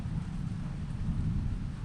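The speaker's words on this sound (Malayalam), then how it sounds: "മഴ" Rain falling outdoors, a dense, continuous low rushing wash with wind noise, steady and unbroken for the whole moment.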